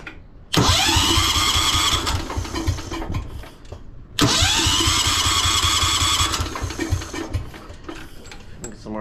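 A 1973 Wheel Horse tractor engine cranks and fires up twice at close range, each attempt a loud, steady mechanical roar lasting several seconds before dropping off, with the second run fading unevenly.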